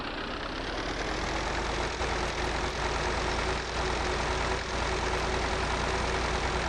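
A Ferguson tractor engine runs steadily while driving in a farming game, a continuous low mechanical drone with a constant idle-like rumble, loud and close, alone with no talking.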